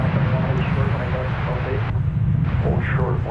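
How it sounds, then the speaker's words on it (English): An American Airlines Airbus A321 departing DFW Airport roars with steady engine noise throughout, loud and continuous, while a voice talks over it. "American Flight 584 is going off to Tucson, Arizona. It's an Airbus A321."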